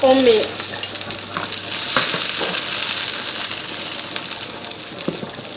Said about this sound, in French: on fait revenir notre oignon